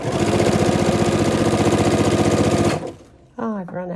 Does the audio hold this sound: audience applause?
no